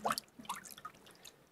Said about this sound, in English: We'll quickly give them a rinse.